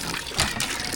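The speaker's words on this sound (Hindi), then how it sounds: "अब यहाँ पर एक अदर वाटर हैंडपम्प इंस्टॉल हो गया है जो कि इनके घर में है" Water flowing from a newly installed hand pump at a home, a close continuous splashing gush with a brief stronger surge, no talk.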